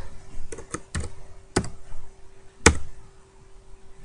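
Fingers tapping a computer keyboard in a few sharp, separate clicks, then a single louder keystroke, close and clear with no talking.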